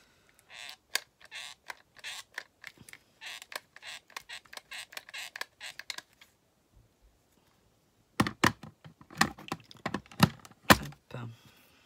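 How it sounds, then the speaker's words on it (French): Tulle fabric is crumpled by hand for a scrapbook rosette, giving close, crackly rustles in irregular bursts, then a pause before a second, louder stretch of crinkling. "Je vais essayer de le froisser un peu et de le mettre au centre."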